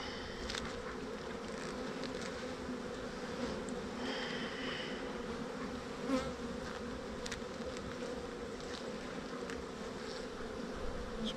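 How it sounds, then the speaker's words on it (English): Honeybees buzz steadily around an open hive colony in a beeyard, a dense continuous drone with individual bees zipping past the microphone now and then. "Bees will cover it."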